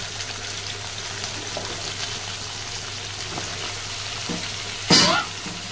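Garlic, green chilli, half an onion, curry leaves and drumstick pieces frying in a pan, a constant close sizzle with light stirring, then one brief louder splash-like burst near the end.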